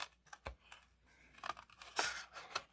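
Scissors fussy cutting a paper leaf shape up close, with faint irregular snips and papery crinkles, several sharper clicks and rustles spread across the moment.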